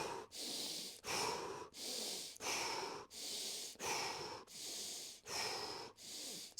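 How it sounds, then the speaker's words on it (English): Rapid, rhythmic breathing cycles, about nine quick breaths with sharp inhales through the nose and forceful exhales through the mouth, close and steady with no talking. "we're going to breathe in through the nose and out through the mouth, starting with a faster rate of breathing"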